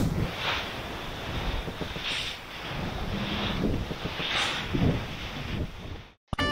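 Strong wind roars steadily on a single-handed sailboat at sea during squalls, a dense loud rush buffeting the microphone with gusting swells throughout, cutting out abruptly near the end.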